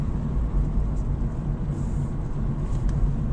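A manual car's engine during a downshift from third to second gear, a steady low rumble and whir heard from inside the vehicle with no talking.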